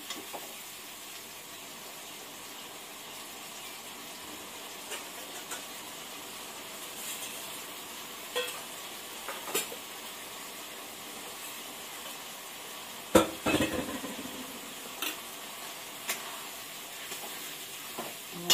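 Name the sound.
stir-frying garlic and ginger paste in a pan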